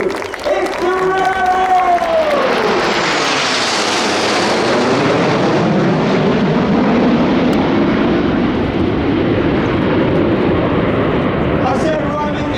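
Royal Air Force Aerobatic Team jets roar in at an air show, a loud rushing engine noise that swells and sweeps overhead, with a crowd applauding and an announcer speaking over the start.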